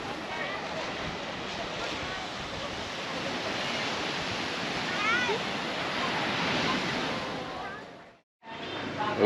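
Waves washing onto a beach on the Vietnamese coast, a broad continuous hiss of surf with wind noise, swelling slightly midway, then cutting out abruptly before resuming briefly.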